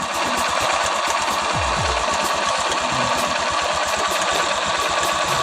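A TMX Supremo motorcycle engine idles with a rapid, regular mechanical ticking from a faulty chain tensioner, close and loud, the steady clatter running throughout with no speech.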